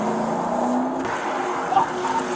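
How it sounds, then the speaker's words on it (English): A stolen police patrol car speeds away, its engine roaring steadily and fairly loud through the whole stretch, with some faint road and wind noise mixed in. "he just stole the patrol car."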